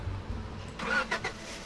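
A truck engine starting in the Roblox game Lumber Tycoon 2: a short, quiet ignition whir and brief mid-pitched engine rev over faint game background.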